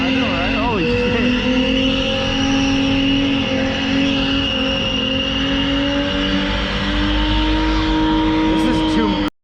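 A drifting car holds a long, loud, sustained tire squeal over a droning engine, steady for several seconds before cutting off abruptly, with people talking over it.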